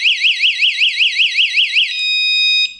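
A new alarm sounding after being paired with a new remote control, a loud warbling electronic siren rising and falling in quick cycles, then settling into a steady tone before cutting off.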